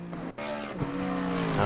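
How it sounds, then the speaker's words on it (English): A race car engine in Assetto Corsa Competizione at the Nürburgring roars close and loud, its pitch climbing steadily as it accelerates past. "that is a loud car"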